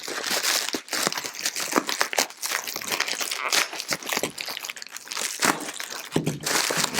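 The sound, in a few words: tape being peeled off bubble-wrapped lens box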